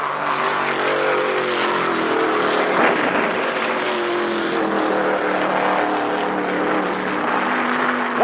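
A NASCAR stock car roars around the track during the 1975 Permatex 300 as an engine lets go, producing a loud, sustained, slightly wavering mechanical drone with no talk over it.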